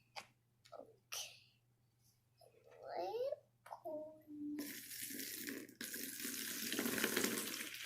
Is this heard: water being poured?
yes